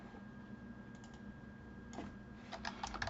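Soft typing on a computer keyboard, a few quiet clicks that grow into a quick burst of keystrokes near the end over a faint hum.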